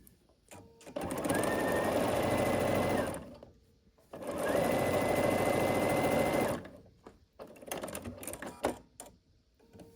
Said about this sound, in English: And then we'll open this up and sew this last seam here.